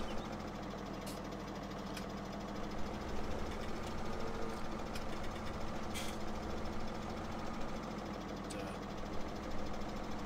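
A tractor engine in Farming Simulator 17 on a farm with a baler, holding a steady low idling drone with a few faint clicks over it.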